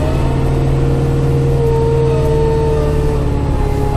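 A tractor engine runs loud and close, a steady droning hum with a faint shifting whine while the bucket moves snow, continuous with no talk.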